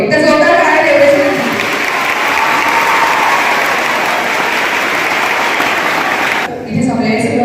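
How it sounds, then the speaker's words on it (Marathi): A hall of former Navodaya school students at an alumni gathering claps loudly and steadily for a teacher, the applause dropping off near the end as a voice returns. "एकदा जोरदार टाळ्या देवरे सर."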